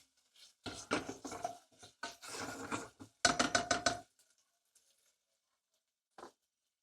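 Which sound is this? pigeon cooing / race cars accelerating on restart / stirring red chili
stirring red chili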